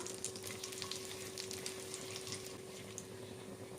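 Cumin seeds splutter in melted butter and a little oil in a pan for Mumbai-style pav bhaji, a constant soft sizzle with fine crackles and faint pops, steady throughout with no talk.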